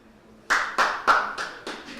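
Hand clapping to switch off a device at a tech demo, five quick loud claps in a steady rhythm, close by, with no talking.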